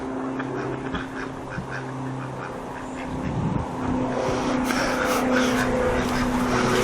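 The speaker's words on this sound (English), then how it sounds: "These look friendly ducks." Ducks beside a mill stream at an old mill in a village quack repeatedly in short bursts at close range, over a low background hum and the flow of water.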